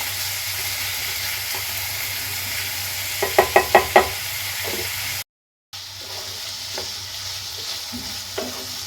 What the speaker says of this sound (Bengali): একটু হালকা করে ভাজাটা হবে গ্যাসের ফ্লেমটা একদম লোতে রেখেছি সমানে নাড়াচাড়া করে নেবো